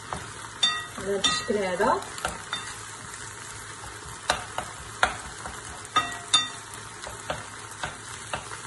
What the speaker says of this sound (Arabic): غادي نزيد عليها هذه البصيله ديالنا وهاد الثومه باش يتشحروا حتى هما مزيان